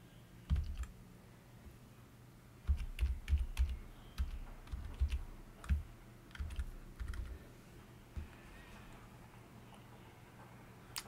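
Keys clatter on a computer keyboard as a password is typed, coming in short clustered bursts of clicks with pauses between, fairly close and clear in a quiet room.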